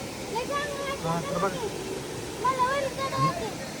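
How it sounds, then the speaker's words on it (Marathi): A steady roar of a waterfall fills the background while people talk over it nearby. "धबधबा दाखव एवढं भारी आहे"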